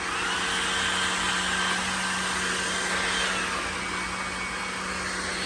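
A Levoit handheld cordless vacuum cleaner runs steadily on its turbo setting, a close, continuous high-pitched motor whine with a broad airy hiss and no talking.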